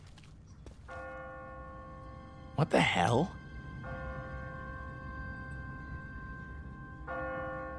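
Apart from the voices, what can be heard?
church bell ringing in video game The Walking Dead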